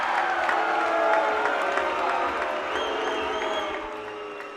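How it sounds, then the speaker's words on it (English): A fight-night crowd roars and boos in a sustained wave of noise after a controversial split decision, loud and dense with scattered whistles and claps, slowly fading toward the end. "The crowd is going crazy. They don't like it at all."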